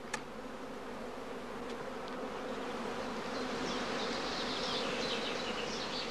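Honey bees swarm around heather skeps at an apiary, a dense, continuous buzzing hum that swells slightly louder over the few seconds, with no voices.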